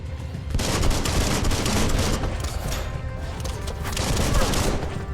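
Dense, continuous enemy gunfire in the video game Biomutant, a loud sustained barrage of overlapping shots and bursts with no voices in the foreground.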